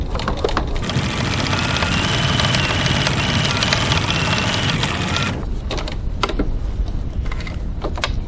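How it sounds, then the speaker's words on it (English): A sewing machine stitches a scant 3mm seam on a crossbody bag, running as a steady dense mechanical whir for about five seconds, then stopping and leaving scattered handling clicks. "stitching a scant 3mm 1/8 of an inch seam"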